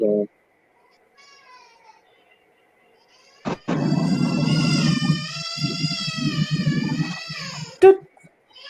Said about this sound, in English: And then Shannon's got a angry kid in the background